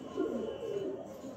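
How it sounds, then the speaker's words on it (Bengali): Two pigeons, one Chinese breed and one local breed, cooing steadily and close by in soft, overlapping low murmurs throughout. "একটা চায়নার কবুতর আর একটা হচ্ছে আমাদের দেশের কবুতর"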